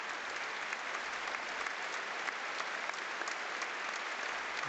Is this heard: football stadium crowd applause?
yes